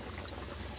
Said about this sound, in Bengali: বন্ধুরা গ্রেভিটা শুধু কেরম ফুটছে দেখুন।